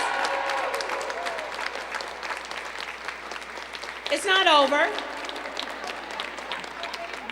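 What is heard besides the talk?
audience applause at Women's History Month celebration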